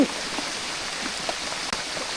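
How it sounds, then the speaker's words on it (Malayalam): Steady, dense hiss of heavy rain falling nearby, with no voices. "നല്ല മഴ കേട്ടോ"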